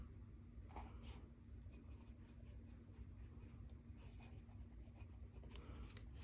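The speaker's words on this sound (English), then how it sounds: "with the bolder line of the J. Herbin glass dip nib, we'll spell out Serenity Blue." J. Herbin glass dip nib scratching across paper, soft intermittent strokes and scrapes of writing, faint and close over a quiet room hum.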